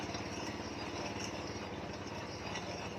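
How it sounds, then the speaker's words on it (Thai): A large drill bit boring a hole at slow speed in a lathe shop, making a steady, dense mechanical rumble and grinding hum that holds constant throughout, close and moderately loud with no talking. "ผมอ่ะอันนี้ก็เลยเจาะรอบช้าไปก่อน"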